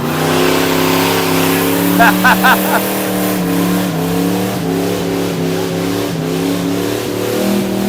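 A Deutz twin-turbo diesel engine in a 1936 Ford drones loudly up close, its pitch rising and falling as it revs, with a brief higher chirp partway through.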